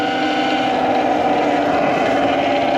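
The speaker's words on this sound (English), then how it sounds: "My particular bike is still super loud, as you guys can hear." An electric motorcycle runs loudly and continuously up close, giving a steady, dense motor whine with a strong tonal hum and no pauses.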